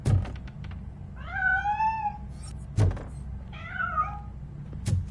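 Two drawn-out cat meows rise and fall in a small house, heard alone with a couple of soft thuds, like a door knock, before and between them.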